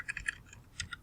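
Computer keyboard typing in short bursts of quick key clicks, close and fairly quiet, with brief pauses between strokes.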